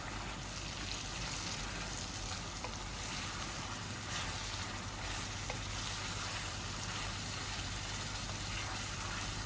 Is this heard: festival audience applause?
no